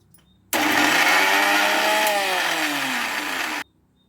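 A kitchen mixer grinder whirs loud and steady as it blends fenugreek leaves, green chillies and a spoon of cumin. It starts abruptly, grinds for about three seconds with a slight drop in pitch, then cuts off into quiet.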